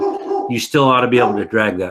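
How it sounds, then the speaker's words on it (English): A dog barks and whimpers in short yips at a cat outside, in quick bursts over a person talking nearby. "My dog is seeing a cat or something outside"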